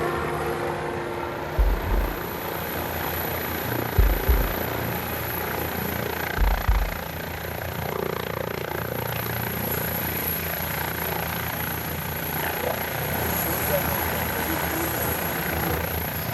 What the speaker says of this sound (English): they're putting a helicopter down here in a minute